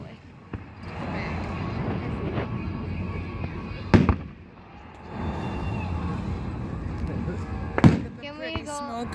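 Fireworks bursting near water at a night display, two loud sharp booms a few seconds apart over a constant crowd murmur, with people talking throughout.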